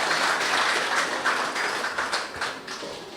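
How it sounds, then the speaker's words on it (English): Parents at a youth programme launch give a round of applause: a continuous, dense crowd clapping that fills the room and slowly tapers off. "I want the parents to give themselves a round of applause"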